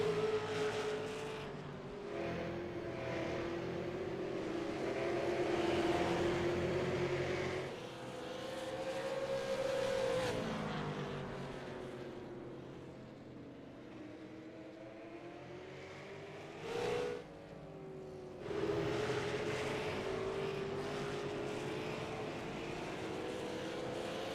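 Race cars circle the track at North Wilkesboro with a steady, droning engine roar that swells and fades as the pack passes, distant and continuous, with no talk.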